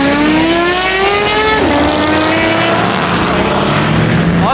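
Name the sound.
turbocharged car engine revving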